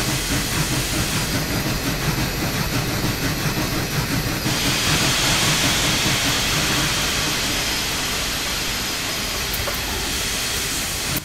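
Air compressor on a Big Boy steam locomotive in Train Simulator Classic, a loud continuous steam hiss with rapid mechanical chuffing beneath, steady and close for the whole stretch, with no voices.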